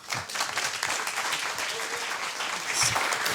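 Sustained applause from a large audience, dense clapping holding steady throughout without a break.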